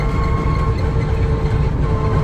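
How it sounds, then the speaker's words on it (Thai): A car-style electric four-wheeler runs on its electric motor, giving a steady low hum with a thin whine held on top, loud and unbroken throughout, with no engine sound and no voices. "ที่ได้ยินเสียงนี้คือเป็นเสียงเสียงมอเตอร์นะคะ มันไม่มีเสียงเครื่องยนต์จนแบบมันเงียบทำให้เราได้ยินเสียงมอเตอร์"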